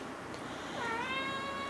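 A pet cat named Kitty meows in a craft room, a single drawn-out, rising and falling cry that is close and clear against a quiet room.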